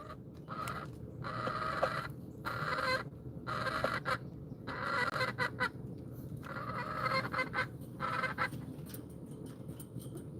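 Chickens eating out of a hand cluck and honk in repeated short bursts, close and fairly quiet, over a constant low background hum with no talking.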